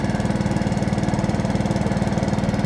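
A gas-motor pump pushing liquid nitrogen fertilizer through 2-inch hoses from a 1500-gallon tank into a 500-gallon sprayer on a corn farm, a steady loud droning engine with a fast regular chug throughout.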